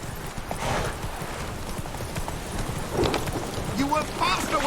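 Roach, Geralt's horse in The Witcher 3, gallops with rapid clip-clop hoofbeats over a steady rain-like wash, with brief voices in the mix.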